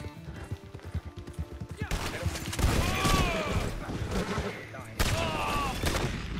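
Rapid gunfire and hoofbeats from a horse in the Red Dead Redemption 2 video game, with scattered shots and clip-clop under a talking voice.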